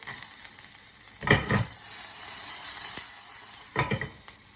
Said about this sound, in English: I'll saute that a little bit.